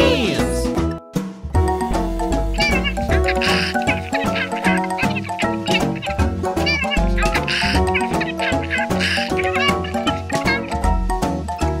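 A small kitten meows repeatedly in a children's cartoon about a fire truck rescue, with high cries set over busy, loud background music.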